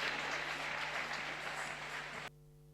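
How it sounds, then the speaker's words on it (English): Velodrome crowd at a UCI Track Cycling World Cup meeting in Manchester, giving a women's team pursuit rider steady, rasping applause that is loud and even, then cuts off abruptly near the end. "So Joanna Rousel getting a rasping round of applause"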